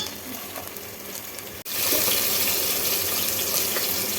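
Onions frying in a pan for homemade noodles give a steady sizzle that cuts off for a moment and then returns louder and denser as they are stirred.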